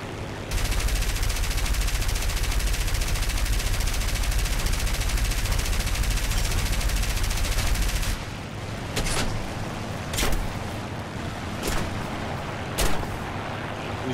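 Aircraft machine guns in the War Thunder flight game, fired from an I-15 biplane fighter: a loud, unbroken roaring burst for about eight seconds, then quieter engine noise broken by a few short cracks of gunfire.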